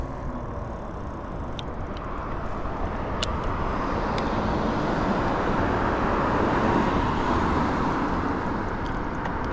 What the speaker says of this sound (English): Lots of cars coming.